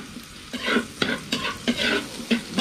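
Sautéing in a pan for tilapia escabeche: a steady, close sizzle of frying with rhythmic stirring scrapes every half second or so.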